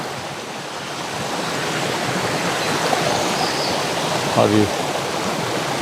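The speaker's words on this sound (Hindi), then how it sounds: "और ये झरना कितना खूबसूरत, जो झरने लगे वो झरना," Steady broadband rush of a waterfall in a forest near a village in the Abujhmarh jungle, continuous and fairly loud throughout, with someone briefly speaking over it.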